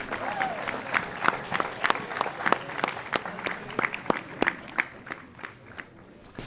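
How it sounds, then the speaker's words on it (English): At a school academic convocation at Pomfret School, an audience applauds with crisp, distinct individual claps that thin out toward the end, with a little murmuring underneath. "And now a thunderous round of applause for Pat Boyd."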